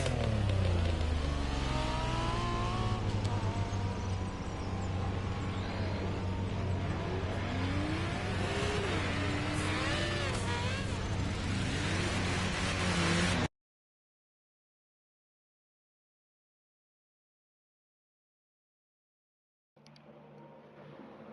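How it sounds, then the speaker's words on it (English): A car engine in The Crew Motorfest revs up and down repeatedly, rising and falling whines over a steady low drone, loud and close for about thirteen seconds before cutting to silence, then resuming briefly. "let me just rev it up like this, see if I can't hear myself over top of this"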